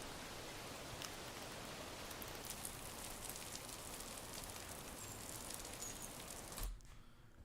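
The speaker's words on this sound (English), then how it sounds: "you hear the rain on the right-hand side because it's rolling off the buildings and hitting the ground" Steady rain runs off buildings and splashes onto the ground, a dense, even hiss with scattered drops that cuts off abruptly near the end.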